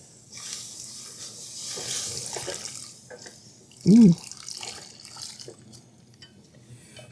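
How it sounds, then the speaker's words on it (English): Boiling hot water is poured into chocolate cake batter in a kitchen, a soft liquid trickle and splash beneath light background noise, with a brief exclamation from a voice midway. "we're gonna be pouring this boiling hot water in here"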